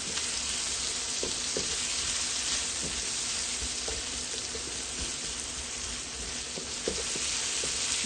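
Onions and aromatics sizzle and fry steadily in a hot pan for Filipino pancit, a continuous close hiss with a few soft stirring clicks and no voices.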